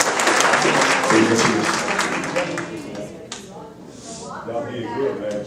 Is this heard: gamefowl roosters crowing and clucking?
no